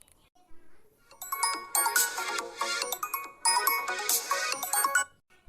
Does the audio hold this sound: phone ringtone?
yes